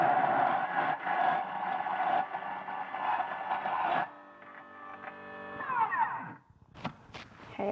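A food processor motor blending dates whirs steadily and loudly, then its pitch shifts as the load changes, ending in a few short bursts and pauses.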